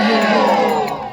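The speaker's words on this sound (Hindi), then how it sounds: "जोरदार ताली बजाओ और बद्रीनाथ भगवान का जयकारा लगाओ" A large devotional crowd at a religious gathering for Lord Badrinath cheers and shouts in unison, a loud, dense roar of voices that swells briefly and then fades slightly.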